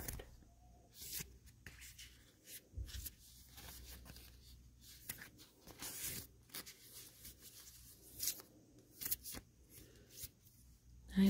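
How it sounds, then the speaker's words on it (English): Oracle cards are shuffled repeatedly up close, a soft irregular rustle and flutter with brief pauses between riffles. "I will now shuffle the cards again"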